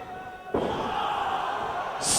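A wrestler is slammed face first onto the ring mat during a tag match, making a single sharp thud followed by a low, sustained rumble of crowd noise.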